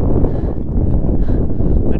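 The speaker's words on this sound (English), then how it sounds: "20 mile an hour gust just came up, so it's gonna make it a little difficult." A strong gust of wind sweeps across a high mountain lake at Cottonwood Lakes in the John Muir Wilderness of the Eastern Sierra. It makes a steady, loud rumbling buffet against the microphone for the whole stretch, with no voices.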